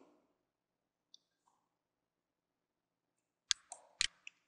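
Computer mouse clicks while working in a Windows management console, a few sharp, close clicks in a quick cluster near the end after near silence.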